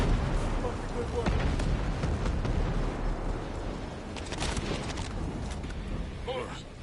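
Dense, continuous battlefield din of mortar rounds and gunfire from the video game Ghost Recon Breakpoint, with repeated booms layered in a steady roar and voices speaking over it.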